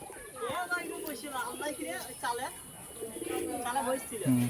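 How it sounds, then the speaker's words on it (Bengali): Pigeons at a rooftop loft coo softly in repeated low throaty calls as one is brought down, mixed with chirps and voices talking in the background. "ওটা পায়রা এসছে এটাকে নামানো হচ্ছে"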